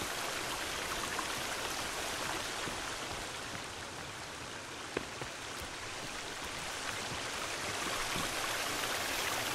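A waterfall in the survival game Sons Of The Forest roars as an even, unbroken rush of falling water, steady in level throughout with no talk.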